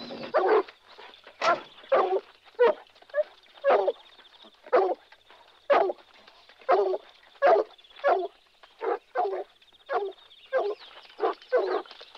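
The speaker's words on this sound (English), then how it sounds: "Keep the dogs quiet." Several dogs bark in a tracking party at night, about fifteen sharp, evenly spaced bursts over twelve seconds, loud and close, with a steady high whine running underneath.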